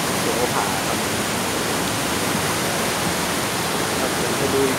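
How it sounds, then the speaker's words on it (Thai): Kaeng Sopha, a large waterfall, roars in a steady, dense wash of falling water that stays loud and unbroken throughout. "น้ำตกขนาดใหญ่ครับ แก่งโสภาครับ"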